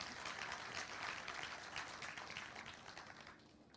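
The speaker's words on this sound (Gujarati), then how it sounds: "તો એક વખત હું તાળી માગીશ SRK નોલેજ ફાઉન્ડેશન માટે" Faint audience applause at a Gujarati talk event, a steady patter of many hands clapping at a distance that slowly tapers off, with no speech over it.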